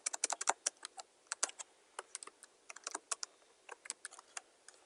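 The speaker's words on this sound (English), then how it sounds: "I'll just type administrator" Rapid bursts of close, crisp clicks from a computer keyboard fill the space as someone types in quick irregular runs with short pauses.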